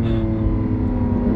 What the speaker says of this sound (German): so sehr ich diesen V12-Sound liebe, der ist einfach so brachial